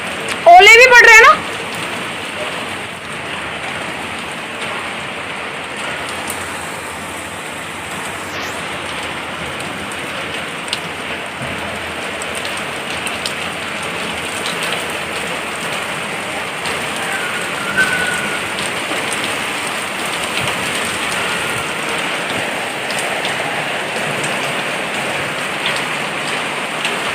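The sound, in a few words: heavy rain with hail falling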